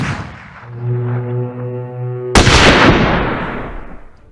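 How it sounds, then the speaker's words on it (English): Gunfire in a documentary battle reconstruction, a steady low horn-like tone followed by one sharp, loud blast that decays into a long, rumbling echo. "The sound of gunfire broke out again."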